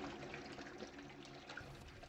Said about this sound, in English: I hear another toilet.